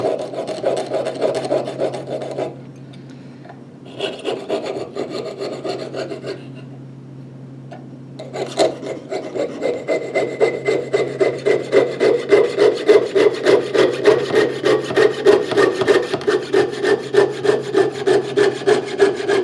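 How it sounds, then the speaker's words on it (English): Close, steady rasping strokes of a piercing saw cutting, pausing briefly twice before resuming in a fast, even rhythm. "So as I'm sawing, I'm gradually turning."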